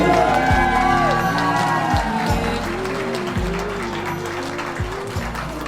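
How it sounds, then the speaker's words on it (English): Wedding guests give a big round of applause with some cheering and whoops, a dense, steady crowd sound heard close over low background music. "One more big round of applause, ladies and gentlemen."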